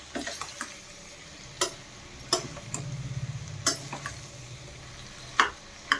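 A spoon stirs mixed vegetables in a pan, making scattered clinks and scrapes every second or so over a faint, low sizzle.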